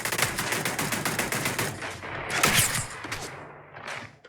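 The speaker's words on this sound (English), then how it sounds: "I'm trying to find someone to shoot." Rapid automatic gunfire in the video game Starfield, a dense burst of close, loud shots in quick rhythm that thins into scattered bangs and mechanical clatter, with no talk.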